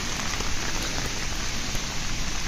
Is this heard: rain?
yes